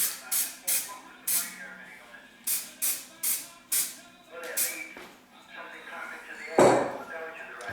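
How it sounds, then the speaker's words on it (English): Aerosol spray paint hissing onto the front of a Midland 3001 radio case, a run of short bursts in a steady rhythm followed by a few longer, softer sprays, close and loud. "I have to spray the front because it needs to go into that groove."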